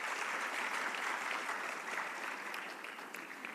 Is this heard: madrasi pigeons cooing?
no